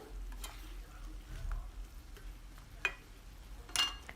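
Squash cooking in a pan while it is stirred, heard as a faint, low sizzle with a few quiet, sparse spoon scrapes and clicks.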